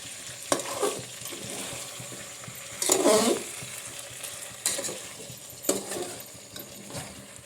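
Black-masala brinjal in a pan sizzles softly while a spoon stirs it, with a few louder scraping strokes against the metal breaking up a steady frying hiss.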